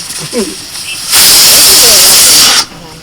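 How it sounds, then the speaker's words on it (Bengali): A loud burst of hissing steam from a faulty pressure cooker blasts for about a second and a half, then cuts off, with faint background voices before and after. "প্রেশার কুকারটা কদিন এরকম করছে গো"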